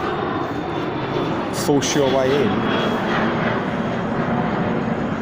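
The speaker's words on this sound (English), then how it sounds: "It's a plane just taken off." A plane taking off from London City Airport in Silvertown, East London, gives a steady, broad engine roar that runs through the whole stretch, with someone talking over it.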